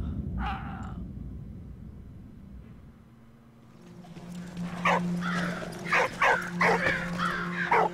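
A dog in the World War I game Valiant Hearts gives a short bark early on, followed by whimpering, yelping dog sounds over a low game soundscape.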